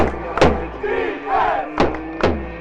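Fans in the stands at a San Jose State football game roar and chant, with several loud shouted bursts rising over a steady crowd din close by.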